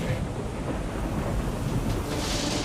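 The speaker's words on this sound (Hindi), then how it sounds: "ये आंधी तूफान फिर से।" A thunderstorm with gusting wind, a steady, loud roar of wind and rain with rumbling low thunder running throughout, no voices.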